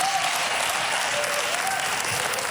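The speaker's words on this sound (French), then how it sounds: "Donnez-moi l'applaudissement au Seigneur." Church congregation applauding at a Sunday service, a dense, even roar of many hands clapping that holds steady throughout without pause, with faint voices buried underneath.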